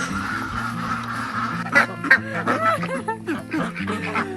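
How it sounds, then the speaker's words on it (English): A large flock of ducks in Vietnam honks and quacks loudly and nearby, with many overlapping calls forming a continuous noisy chorus. "Look at all the ducks."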